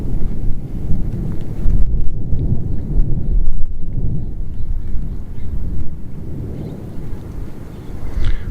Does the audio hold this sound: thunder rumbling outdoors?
yes